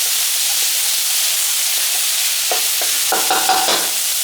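Garlic hits hot oil in a wok during Cantonese cooking, giving a loud steady sizzle with a few stirring scrapes and clatters toward the end, close and without talk.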